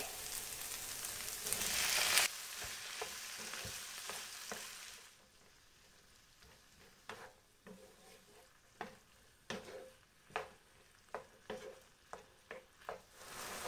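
Three medium-sized chopped tomatoes hit a hot pan for restaurant-style butter chicken, giving a loud burst of sizzling frying that settles into a quieter simmer punctuated by repeated scraping and stirring strokes.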